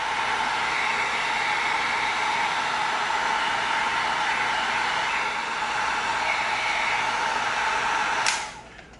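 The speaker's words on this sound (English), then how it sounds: "now we're going to hit these with some heat." A heat gun blows hot air over creased EVA foam pistol parts, a loud continuous whooshing hiss held steady for about eight seconds before it cuts off abruptly.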